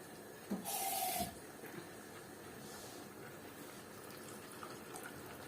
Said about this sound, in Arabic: انا حطيت لهم كده ايه حبه ميه زي ما حضراتكم شايفين. هزود بس حبه كمان